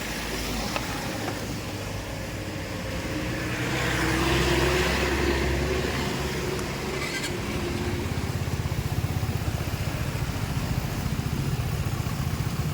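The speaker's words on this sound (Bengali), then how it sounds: "বাইকের চেনটা অনেকটা ঢিল হয়ে গেছে আর আওয়াজও করতেছে।" A motorcycle with a loose chain on a ride around Darjeeling, its engine droning steadily and swelling midway, then a rough, fast rattling texture taking over toward the end, heard from up close.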